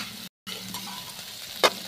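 Mixed vegetables frying in a pan give a quiet, continuous sizzle, with a brief dropout early on and one sharp stirring scrape near the end.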